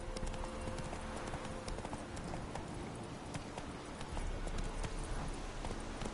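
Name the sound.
horse Roach galloping in video game Witcher 3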